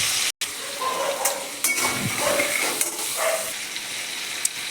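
Liver fries with cumin, dried chilli and bay leaf in a pan, giving a close, steady sizzle broken by occasional stirring scrapes and a few faint clinks.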